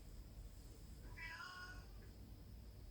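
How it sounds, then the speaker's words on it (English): A single faint cat meow, soft and short, over a steady low background hum. "I think maybe you might want to meet my little cat who wants to say hello"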